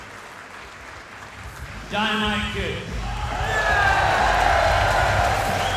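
Crowd applauding and cheering at a live wrestling show, building in volume as a ring announcer introduces the nephews of Dynamite Kid; the noise rises to a steady roar under the announcer's voice.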